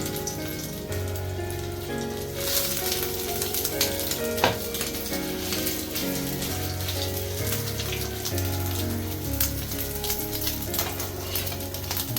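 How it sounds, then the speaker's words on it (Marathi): Steady crackling sizzle of shaped small-shrimp (kolim) fritters frying on a hot griddle, continuous and close, with a few soft clicks and scrapes mixed in. "एक बनवून डायरेक्ट टाकायचं तव्यावर"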